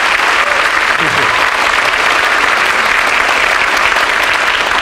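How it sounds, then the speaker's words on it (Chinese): Lecture audience giving a lively round of applause, a dense, loud, sustained patter of clapping filling the room from start to finish. "我们都听到大家非常有精神的掌声啊"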